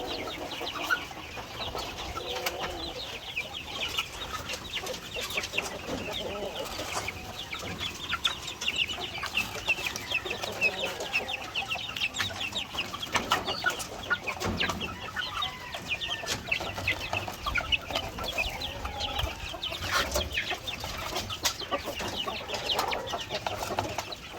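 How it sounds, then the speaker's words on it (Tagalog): Hungry game fowl roosters, fighting cocks kept for breeding, cluck and call continuously at close range, a busy flock chatter with no talking over it. "So ito naman yung ating mga panglaban na manok dito, game fowls. Yan sila oh, nagugutom na."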